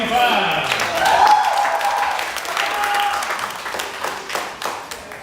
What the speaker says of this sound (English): give the Buckeye Panthers a round of applause.